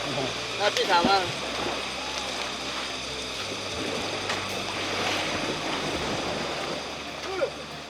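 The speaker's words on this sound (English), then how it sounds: "Splashing in the river with them was a highlight." Elephants at a Chiang Mai elephant sanctuary splash about in river water, giving a continuous rushing, sloshing wash with occasional louder splashes, while people talk over it.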